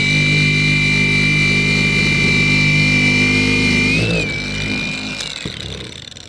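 A power sander works over one side of a handmade artifact with a steady high-pitched motor whine and grinding hum, then slows and winds down toward the end.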